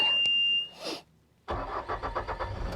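A 2016 Bobcat T770 rubber-track skid steer loader fires up. A short electronic beep and a brief crank give way to the diesel catching and settling into a rough, pulsing idle, heard close.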